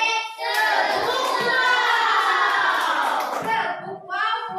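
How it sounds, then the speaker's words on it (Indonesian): A group claps hands together in a sustained burst of dense applause lasting about three seconds, with a brief children's chant before and after. "Sebelumnya kita tepuk semua dulu yuk."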